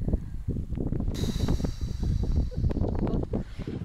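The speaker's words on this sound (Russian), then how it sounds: "что-то как-то ветер подул." Steady low rumbling wind on a mountain hike in Armenia buffets the microphone throughout, with gusty bursts of noise; a faint higher whistle enters partway through.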